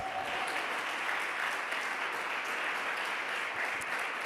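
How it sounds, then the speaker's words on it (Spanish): Congregation applauding at a church service, a steady dense wash of many hands clapping throughout with no clear pauses, fairly distant and even in level. "Dale un aplauso fuerte al Creador"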